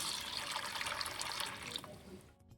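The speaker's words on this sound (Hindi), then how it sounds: "तो अभी मैं इसमें डाल रही हूँ यहाँ पे गर्म पानी।" Hot water pours into a container for soaking soil, a bright steady splashing stream close by that fades out near the end.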